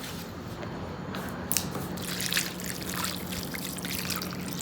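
Water pours and trickles steadily onto potted plants at home, a soft continuous splashing with a few small knocks, no talking.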